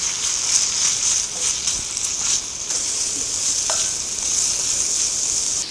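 Sausage and mushrooms stir-frying with bacon in an oiled pan produce a steady, bright sizzle with occasional stirring scrapes and clicks, close and fairly loud, and no talking is heard.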